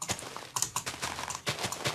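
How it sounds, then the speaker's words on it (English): Rapid mouse clicking during Minecraft play comes in close, sharp bursts of quick clicks in an irregular rhythm, with brief pauses between clusters. "can hear I'm clicking like crazy"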